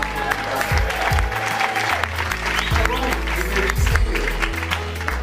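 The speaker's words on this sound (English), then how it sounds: "Let's give Mel a tremendous round of applause" A seated audience at a motivational business event in Sacramento breaks into a steady wash of clapping, loud and sustained over a thumping musical bed, with a voice speaking over it.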